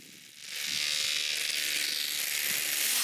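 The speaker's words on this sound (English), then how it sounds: "we need to cut some notches into the concrete." A power tool starts after a short pause and whines loudly and continuously while cutting notches into concrete on a house-building site.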